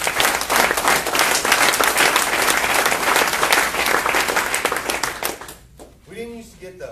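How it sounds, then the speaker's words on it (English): Audience applause fills a room at a car dealership staff meeting, dense steady clapping from many hands that fades out near the end as a voice begins. "Let's give a round of applause to Service Shield."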